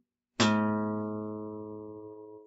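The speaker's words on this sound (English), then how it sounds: "Pluck a guitar string." A single plucked guitar string rings out clearly, with a sharp attack and a long, slowly fading sustain, heard alone.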